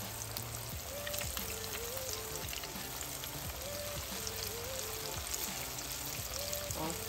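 Pork ribs frying in oil in a pan, a steady close crackling sizzle running throughout, with faint tonal sounds in the background.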